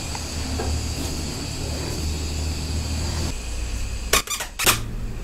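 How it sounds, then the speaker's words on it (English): Pressure escapes from a countertop pressure oven rotisserie cooking wings, a steady close hiss with two brief, sharper bursts near the end. "Hear that pressure escaping?"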